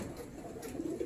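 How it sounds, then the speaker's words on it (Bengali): A short stretch of steady, throaty cooing from many pigeons at a small farm housing native and foreign breeds, the calls overlapping continuously with no talk. "আমরা এখানে দেখতে পাচ্ছি দেশি বিদেশি কবুতরের সমন্বয়ে এই ছোট্ট একটি খামার"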